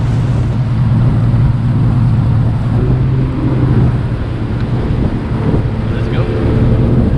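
Tournament bass boats run out of the idle zone on Beaver Lake, Arkansas, their outboards a loud, steady low drone mixed with wind buffeting the microphone and water noise, with a voice speaking over it.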